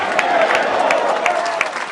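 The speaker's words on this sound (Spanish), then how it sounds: "el auditorio de la Universidad de Panamá se ha puesto de pie para aplaudir al mandatario venezolano" An auditorium audience at the Universidad de Panamá applauds the Venezuelan president at the end of his speech during the Cumbre de los Pueblos, dense sustained clapping with crowd noise and sharp individual claps throughout.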